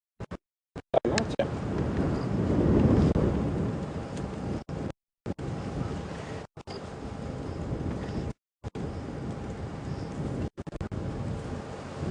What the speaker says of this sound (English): The wind's picked up quite a bit.